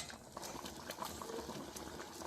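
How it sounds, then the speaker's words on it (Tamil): Quiet bubbling of liquid simmering in a pot, a soft continuous burble with small pops. "இது ஒரு கொதிக்கட்டும்."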